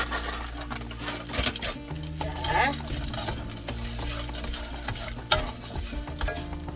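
Anchovies stir-fried with sugar, sunflower seeds and pumpkin seeds in a pan, a steady sizzle with frequent scraping stirs and a few sharper clinks, continuous and close, with no talk.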